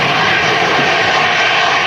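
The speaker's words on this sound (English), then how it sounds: "EasyJet A320." EasyJet Airbus A320 jet at Manchester Airport, a loud steady engine roar filling the whole moment with no talk.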